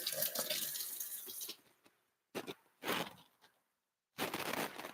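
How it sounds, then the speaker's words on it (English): Tap water runs in bursts as a pH tester is rinsed under a faucet, a steady broadband gush for about a second and a half, then short on-off splashes separated by silence. "just rinse it under some tap water"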